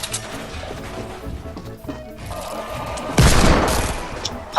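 Gunfire in a video game bursts out close and loud, a rattling crash of shots over a busy background, with a heavy burst near the end.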